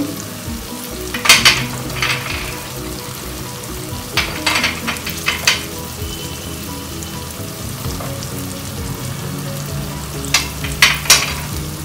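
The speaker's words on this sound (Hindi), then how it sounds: "और इसको मिक्स कर लें" Spices being stirred into pav bhaji as it fries in a pan, a steady loud sizzle broken by scraping spoon strokes in bursts, with no talking.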